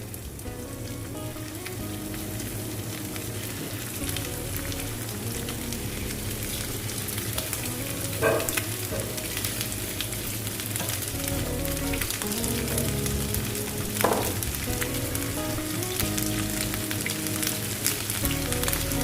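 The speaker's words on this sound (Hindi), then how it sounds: "मंचूरियन की जो बोटियां थी वो अच्छी तरह से मैरिनेट हो गई। अब मैं इनको फ्राई करने लगी हूँ।" Marinated chicken Manchurian pieces coated in cornflour frying in a pan of hot oil, a steady dense sizzle throughout with a few louder bubbling spits, close up and with no talking.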